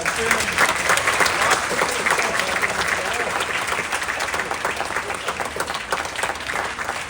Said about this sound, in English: let's give Frank a round of applause for sharing